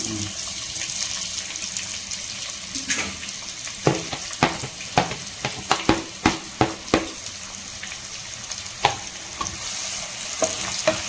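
Finely chopped onions frying with fennel seeds in a pan for an egg masala: steady sizzling with a run of utensil stirring and scraping knocks in the middle, close and fairly loud.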